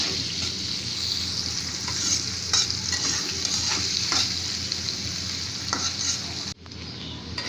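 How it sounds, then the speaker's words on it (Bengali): Three chopped onions frying in a pan until brown make a dense, steady sizzle close by, punctuated by scattered stirring scrapes, then a brief dip as the sound is cut near the end. "এখানে আমি পেঁয়াজগুলো ব্রাউন কালার করে পুরো ভাজবো"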